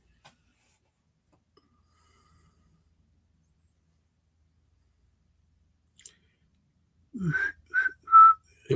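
After a long near-silence, a person whistles a few short, bright notes of a tune near the end, close and fairly loud, alone.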